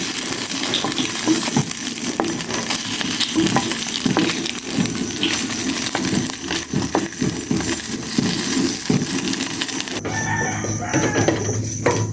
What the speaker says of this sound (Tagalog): Iprito ko na itong embutido.